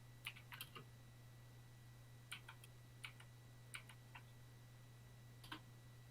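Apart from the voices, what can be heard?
typing ping 8.8.8.8 on a computer keyboard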